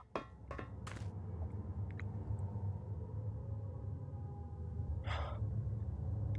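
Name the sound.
unnerving breathing noises over speakers, video game GMOD VR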